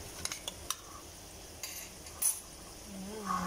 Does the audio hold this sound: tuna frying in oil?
yes